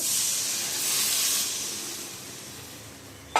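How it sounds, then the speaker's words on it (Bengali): Water is poured into spices that have been fried until the oil separates, making the gravy for a chital fish curry. A loud, airy hiss swells and slowly fades over a few seconds, ending with a brief knock. "ঝোলের জন্য এই যে জল দিয়ে দেওয়া হচ্ছে।"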